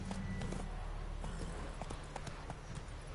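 Horse hooves clip-clop steadily on the ground in The Witcher 3, a continuous rhythmic trot under dense ambient game sound.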